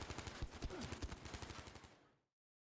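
ZK-383 submachine gun in Battlefield 5 firing one rapid automatic burst of about two seconds, dense evenly spaced shots that stop abruptly, with no talk over it.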